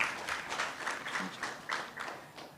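Audience applause at a university mental health conference for the event's organisers, a mid-level, steady patter of many hands with a few louder bursts and faint murmuring among the crowd.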